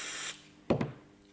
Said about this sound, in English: We're just going to spray around the valve of the tin.